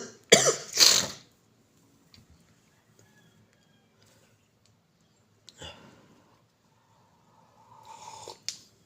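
Two harsh coughs burst out close by at the start, followed by quiet stillness, a faint rustle, and another rough cough near the end.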